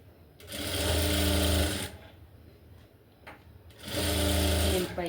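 A sewing machine stitches along the piping of a designer blouse in two loud, steady bursts of whirring, separated by a quieter pause with faint handling sounds, and no talking.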